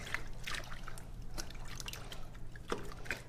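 A hand gently swishes water in a foot bath during a pedicure, giving close, soft sloshing and dripping splashes in a light, irregular rhythm over a quiet background, with no talking.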